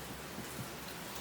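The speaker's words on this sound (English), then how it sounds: "sorry for the rain noise" Steady rain falling outside during a 454 Vortec intake and fuel injector repair, a dense, continuous hiss that fills the clip with no talk over it.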